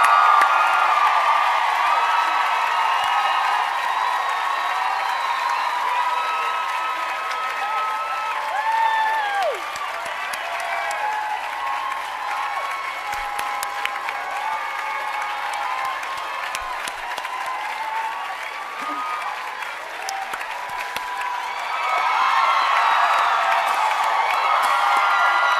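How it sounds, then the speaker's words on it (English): A large crowd at a university journalism school commencement applauds continuously with scattered cheers and whoops, loud and sustained, swelling again near the end. "Another round of applause for the class of"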